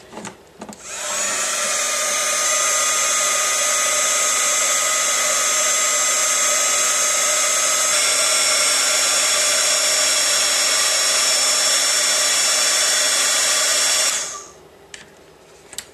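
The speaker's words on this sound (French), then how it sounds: "Et maintenant je peux chauffer au pistolet à air chaud." A hot-air heat gun melts embossing powder on a wedding announcement card, a steady, loud blowing whine that switches on, runs evenly for about thirteen seconds, then cuts off, with no talking.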